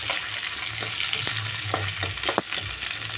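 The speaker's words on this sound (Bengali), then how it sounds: "আলু ভেজে নিচ্ছি।" Potato pieces fry in oil in a pan beside onions pushed to one side, making a continuous close sizzle. Repeated soft scrapes and knocks from stirring run through it.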